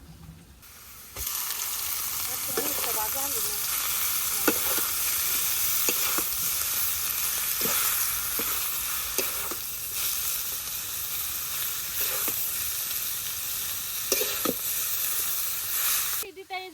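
Mustard greens sizzle and fry steadily in a hot pan for a village cooking recipe, a continuous close hiss broken by occasional scrapes and stirs, with no talking.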